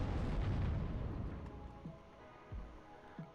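Cluster bomb strikes in the WARNO war game give a dense roaring wash of blasts at the start that slowly decays, followed by a few separate low thumps.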